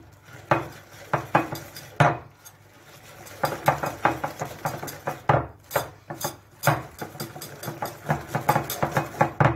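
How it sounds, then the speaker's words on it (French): Crème pâtissière is stirred into almond cream in a bowl to make frangipane, with a spoon or whisk knocking and scraping against the sides in quick, irregular strokes, close and clear with short pauses. "Vous mélangez bien le tout."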